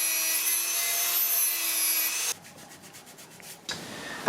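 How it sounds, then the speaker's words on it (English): A Dremel grinding down a fan temperature probe for a radiator, a steady buzzing rasp for about two seconds, then a brief pulsing scrape before grinding resumes at the end. "this probe is slightly too thick to fit between the fins of our radiator here, so I need to dremel it down just a pinch"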